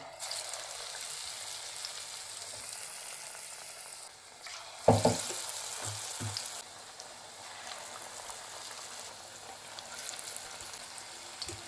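Soft, steady frying hiss of battered eggplant slices (bajji) in hot oil, with a brief louder clatter and bubbling burst midway, then the gentle sizzle continues.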